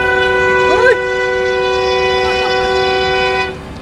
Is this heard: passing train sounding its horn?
yes